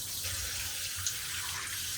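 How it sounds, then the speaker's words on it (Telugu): Raw chicken being washed under running water, a soft steady trickle and splash at low level, with one small knock partway through. "ఫస్ట్ అందరు నార్మల్గా వాటర్తో కడుగుతారు, నేను మాత్రం నీళ్ళతో కడుగుతాను"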